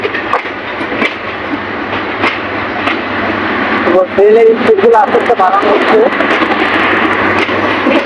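An express train runs near Gafargaon station on the Dhaka line, a steady broadband rumble with rail clatter filling the whole stretch, growing slightly louder midway while a voice speaks over it.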